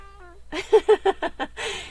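A domestic cat, an elderly female, meows several times in a quick run of five or six short, close calls, with a brief voice before them and a breathy sound after.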